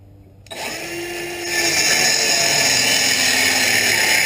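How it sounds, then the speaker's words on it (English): A Milwaukee power saw spins up abruptly and runs at a steady high whine as it cuts a wood stud for an off-grid cabin, the tone growing louder and harsher as the blade bites in, close by. "Just going back to the old Milwaukee saw."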